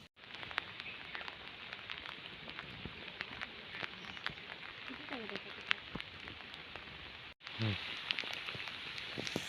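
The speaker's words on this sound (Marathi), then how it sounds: "आता खूप जोरात पाऊस आलाय" Heavy rain falls on a strawberry farm, a dense, even patter that runs throughout the clip. A voice speaks briefly under it twice, and there is a short gap near the end.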